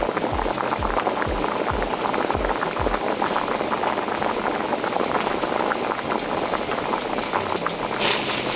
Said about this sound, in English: I got the noodles boiling.